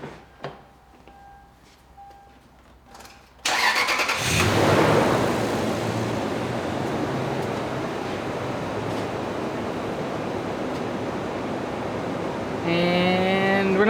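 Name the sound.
Toyota 4.7 V8 engine starting up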